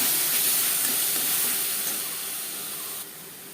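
Paste of garlic, onion, ginger, tomato and green chilli sizzles steadily in a hot pan after onions have fried, a continuous hissing fry that fades slightly toward the end, with no voices.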